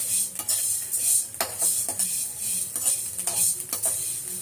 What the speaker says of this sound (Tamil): உப்பு நல்லா வறுத்துக்கலாம்.